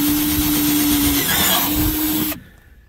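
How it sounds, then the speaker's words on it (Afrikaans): A large power drill bores holes on a farm in Mississippi, a steady loud whine running for about two seconds before it cuts off abruptly, leaving faint background. "Nou gaan ek die groot boor vat, groter boor en sommer net so so drie gaatjies hier inboor"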